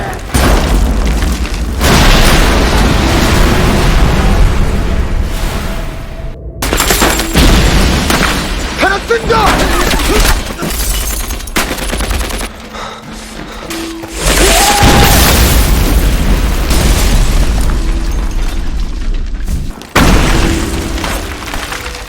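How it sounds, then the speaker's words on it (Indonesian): Heavy booms from an explosion on a shop rooftop in wartime, with dense roaring blasts and bursts that sound like gunfire, loud and sustained, with brief dips between surges. "Sayangnya, ledakan terjadi di atap toko tepat setelah Jung Bum berangkat."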